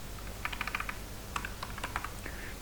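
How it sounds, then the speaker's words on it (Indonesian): Keys clatter on a computer keyboard as a short word is typed, several quick bursts of taps with a pause in the middle, close and moderately loud over faint background hum. "Sini teman-teman ketik saja localhost"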